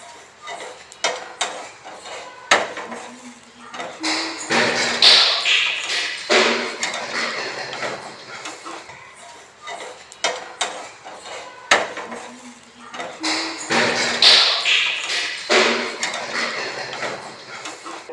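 An uttapam gets turned over in a pan, with sharp metallic scrapes, clinks and taps of a spatula against the pan coming in irregular bursts close by, with a couple of louder clatters and no talk.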